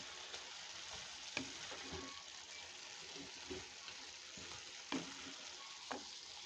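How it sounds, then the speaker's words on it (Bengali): Sweet pumpkin fries in a pan with green chilies, dried chilies and onion, giving a soft, steady sizzle broken by a few sharp utensil clinks and stirring scrapes. "আমি মিষ্টি কুমড়া আজকে শুধু মিষ্টি কুমড়ার ফ্লেভারে ভাজি করব।"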